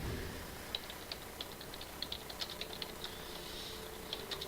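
Computer keyboard typing during a League of Legends game, with irregular clusters of light clicky keystrokes over a steady background hum, no talking.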